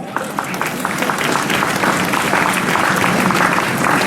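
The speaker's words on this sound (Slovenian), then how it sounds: "Spontan aplavz." Spontaneous applause breaks out at a ceremony in Ljubljana marking its Green Capital of Europe title, a loud, dense, sustained clapping from a large audience that grows slightly fuller as it goes.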